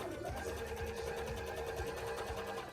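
A sewing machine stitches a bra, running straight over pins with a fast, steady, close mechanical chatter that holds constant throughout.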